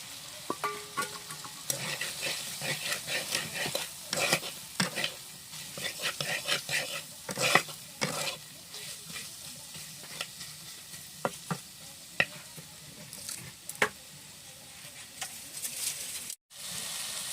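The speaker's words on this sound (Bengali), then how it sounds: "এর সঙ্গে আমি পেস্টটাও দিয়ে দেবো, একটু নাড়াচাড়া করে নেব" Chicken mince with chopped ginger, garlic and a spice paste being stirred in a pan for momo filling: a busy sizzle with rapid, repeated spatula scrapes and knocks up close, easing off toward the end.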